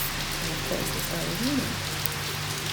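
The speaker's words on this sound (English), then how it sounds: "it started raining" Steady rain falling outdoors near a garden, a continuous broadband hiss that fills the whole stretch at an even level, with a voice briefly speaking over it.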